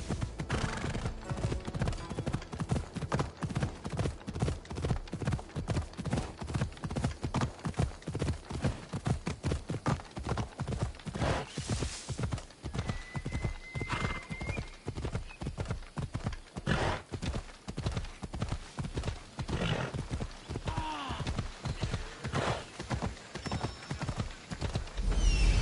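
Horse galloping in the video game Assassin's Creed Odyssey, a fast, steady run of hoof clip-clops close by for the whole stretch, with a brief neigh partway through and no talking.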